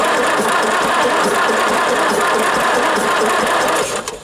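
A 1953 Nuffield tractor diesel engine turned over out of gear, cranking loudly and continuously with a rough churning rhythm close by, tailing off at the very end.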